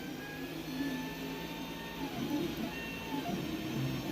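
A 3D printer laying down a large hollow part, its stepper motors giving off a steady, faint whirring hum with shifting tonal whines and small bursts of movement noise, with no voices.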